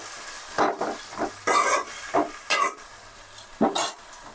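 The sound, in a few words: stirring chopped tomatoes into golden fried onions in a pan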